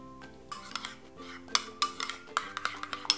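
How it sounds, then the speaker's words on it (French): Nutella being stirred into fromage blanc with oil and vanilla extract in a bowl, a utensil scraping and clinking against the sides in quick irregular strokes, close and fairly quiet with no talking. "Puis je mélange le Nutella dans le fromage blanc. J'incorpore ensuite l'huile, mélanger délicatement"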